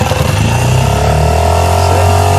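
Small boat engine roaring loudly right after being started with the choke, a steady close mechanical drone that holds throughout.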